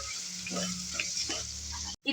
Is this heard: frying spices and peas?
yes